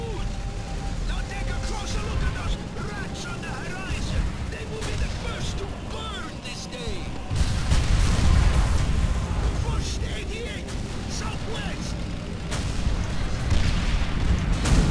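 Tank cannon fire and battlefield explosions in Call of Duty: World at War, heavy booms rolling under continuous game noise, with players talking over it.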